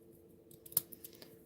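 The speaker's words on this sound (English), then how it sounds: "And cut this without cutting my finger. Because these scissors, they're pretty sharp." Sharp paper-crafting snips make a few faint, crisp snipping clicks against quiet room hiss, with one cut standing out more sharply than the rest.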